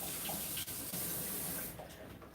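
Tap water runs steadily as an onion is rinsed under it in a kitchen sink, a continuous close splashing flow that thins out near the end.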